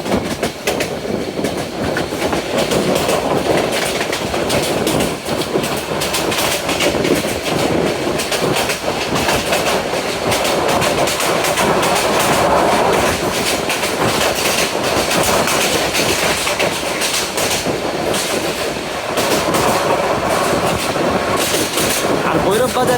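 The Cox's Bazar Express runs at speed through Bhairab Bazar Junction at night, heard from on board as a loud, steady roar with rhythmic clickety-clack of wheels over rail joints and occasional squeals; voices murmur underneath.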